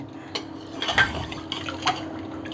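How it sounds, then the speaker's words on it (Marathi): Milk mixture for kharvas, sweetened with sugar and jaggery and flavoured with nutmeg, stirred in a pot: soft liquid sloshing with a few light scrapes and clinks of a spoon against the pot, close and quiet over a steady background hum. "आता हे सगळं मिश्रण मी चांगलं परत ढवळून घेते"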